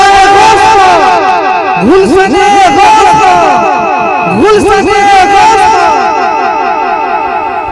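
A crowd roars back in unison to a Nara-e-Takbir call at a devotional gathering, with loud massed shouting swelling in two strong bursts over sustained layered voices.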